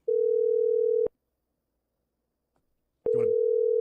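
A phone call ringing on the line before voicemail: a long steady electronic tone, about two seconds of silence, then the tone returns with a brief click of noise.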